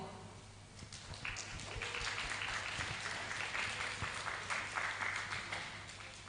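An audience at an academic conference applauds to welcome a session moderator, a steady wash of clapping from a large room that holds at moderate loudness throughout.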